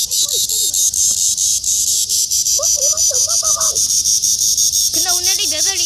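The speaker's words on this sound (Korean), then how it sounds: "자, 말매미를 잡았습니다." A captured Korean cicada, Cryptotympana atrata, gives a steady, loud, high buzzing drone that runs continuously through the clip while children talk and exclaim over it.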